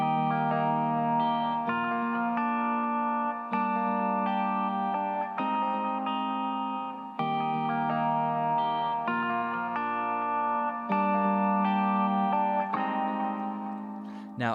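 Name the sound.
finger-picked guitar chords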